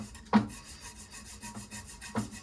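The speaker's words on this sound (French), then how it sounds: "on va venir couper le raccord" A hacksaw blade rasps against a toilet cistern pipe fitting in a few slow, scraping strokes, close by and fairly quiet.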